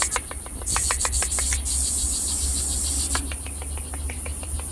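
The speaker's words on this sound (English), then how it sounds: "Que mucho ruido de esa ranita." A small red poison frog calls in a Costa Rican jungle along a river, giving rapid, repeated high chirps in bursts over a dense, loud insect chorus and steady low rumble.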